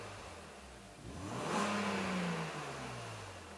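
A BMW Z3 2.8 roadster with a 200-horsepower six-cylinder engine accelerates, a muffled, subdued engine tone climbing in pitch and swelling, then settling into a steady hum, heard alone without talk.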